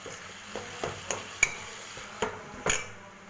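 A gentle sizzle of tomato puree frying in a pan with a spoon scraping and clinking every half second or so as it stirs, quiet and close, no voices.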